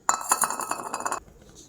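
A spoon stirs sugar and milk in a kadhai while mango barfi is being made, giving quick bright metallic clinks and scrapes in a steady run before it stops abruptly.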